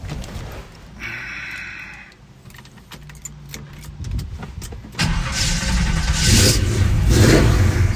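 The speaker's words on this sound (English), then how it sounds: "We'll start it up here for you." Keys jingle, then a 1969 Chevrolet Chevelle engine cranks, catches and roars to life, settling into a loud, rumbling idle with throaty revs.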